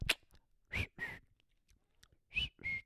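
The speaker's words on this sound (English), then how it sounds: "That was a bad whistle." A man whistles a few short, faint, breathy notes in separate bursts, with quiet pauses between them.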